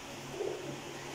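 Breeder pairs of pigeons give a soft, brief coo, faint and close, with a low steady hum underneath and no other sound standing out.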